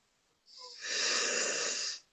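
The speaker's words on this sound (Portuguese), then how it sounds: "Vocês vão respirar fundo pelo nariz e vão soltar o ar pela boca dentro do triângulo." A deep, steady inhalation through the nose during a guided breathing exercise, a broad airy rush that swells and holds for over a second before cutting off, close and fairly loud with no talking.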